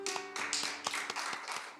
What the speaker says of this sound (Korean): 위해서 우리 또 박수하겠습니다